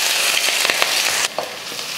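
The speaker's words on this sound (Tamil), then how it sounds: "லைட்டாக வதக்கிட்டு ரொம்ப எல்லாம் வதக்கக்கூடாது." Chopped carrot, beans, onion and green chili sizzle steadily in hot oil in a pan for egg fried rice, a loud continuous frying hiss with brief stirring scrapes partway through.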